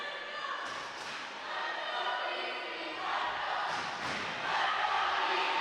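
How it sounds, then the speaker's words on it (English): A crowd in gym bleachers at a high school volleyball match between Garden City and Thurston makes a sustained roar of voices and cheering, with occasional thumps and swells in volume. "The crowd making some noise as the boys soccer team has come over"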